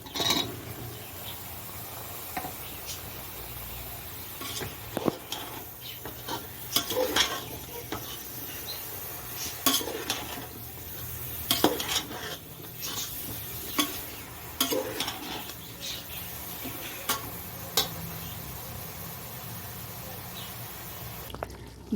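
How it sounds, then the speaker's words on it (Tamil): Mushrooms sauté in biryani masala in a pan: a steady sizzle with utensil scrapes and clinks against the pan, stirring knocks recurring throughout at close range. "இந்த சமயத்தில் நம்ம க்ளீன் பண்ணி எடுத்து வச்சுருக்கேன் மஷ்ரூம் சேர்த்துடலாம்"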